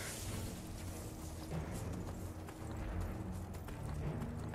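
A video game horse gallops away, hooves clip-clopping in a steady rapid rhythm under a low rumbling game soundscape, moderately loud and continuous.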